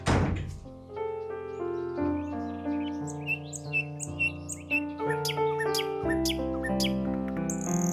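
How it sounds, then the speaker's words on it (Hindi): A door thumps shut once at the start, a short solid knock, followed by soft musical tones and faint bird chirps in a quiet room. "जाए और जाते हुए दरवाजा भी बंद करके जाए।"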